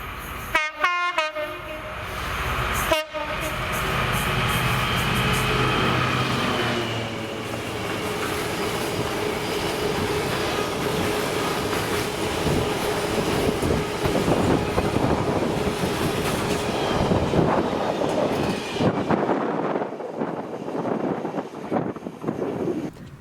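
Engineers freight train hauled by a DB-liveried Class 66 locomotive, 66124, passing Holytown, opening with a loud horn blast then a long, steady roar of the locomotive and wagons rolling past with rhythmic wheel clatter, fading toward the end.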